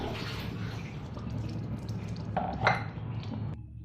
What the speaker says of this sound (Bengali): দিয়ে দিব এখন তেল।